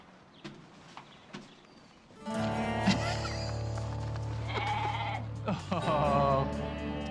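Transgenic goats bleat repeatedly over a loud, steady background, the wavering cries clear and fairly close, following a quiet stretch with scattered light knocks at the start.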